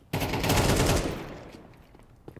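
AK rifle fire in Counter-Strike 2, a single loud burst of shots right at the start that rings out and decays over about a second.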